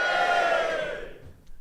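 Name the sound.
live comedy audience cheering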